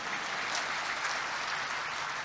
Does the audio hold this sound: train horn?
no